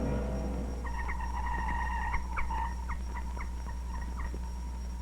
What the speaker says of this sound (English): That sound is a communist jammer at work